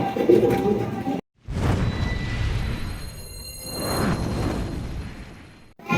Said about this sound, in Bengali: এখানে কিন্তু চমৎকার এক জোড়া গোল্লা কবুতর রয়েছে